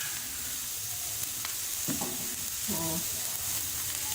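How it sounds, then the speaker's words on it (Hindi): Sliced onions fry in hot oil for a street-food egg omelette burger, giving a steady, even sizzle throughout, with a few soft utensil knocks midway and a brief spoken word. "इसमें हम शामिल करेंगे सबसे पहले प्याज़ों को, क्योंकि ये थोड़े से हमने इसमें पकाने हैं"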